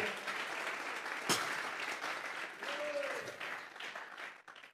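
A church congregation claps in worship, a steady, moderately distant patter of many hands with a voice briefly heard over it.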